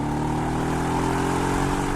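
A Mercedes-AMG GLE 63 S SUV in Sports Plus mode, with a deep, steady exhaust drone and engine hum held in gear, loud and continuous with no talking.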